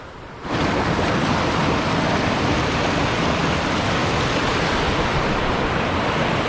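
A river near Mt. Halcon with a strong current, rushing water roaring in a loud, continuous broadband wash that starts abruptly and holds steady, with wind buffeting the microphone.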